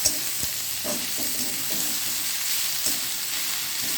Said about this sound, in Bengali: এই জিরে ফোড়ন দিয়ে আমি পেঁয়াজটা ভাজার জন্য দিয়ে দিলাম